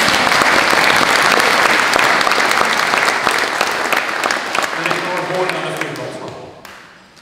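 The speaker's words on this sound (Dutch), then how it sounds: "Een applaus voor de muziek en een applaus voor Nelsie Koopmans." Audience at a 25th anniversary celebration of Stichting Bildtse Belangen breaks into loud applause for the music, crisp clapping that gradually thins out as murmuring voices rise beneath it.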